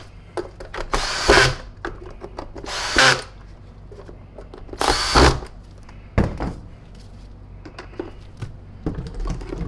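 Cordless power drill on a low torque setting driving Phillips screws while repairing a Beam Serenity Plus SP800 central vacuum: three loud whirring bursts, each over a second long, followed by lighter clicks and handling noises nearby.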